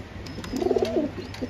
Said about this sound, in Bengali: একটা হলো কামাগার কবুতর আর একটা হলো ওমান টেডি কবুতর